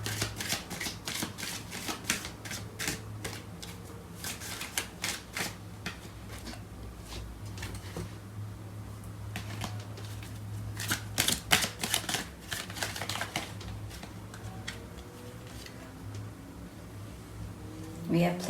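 Tarot cards are shuffled by hand in rapid, crisp riffling bursts with rustling between them, close and fairly quiet over a low steady hum.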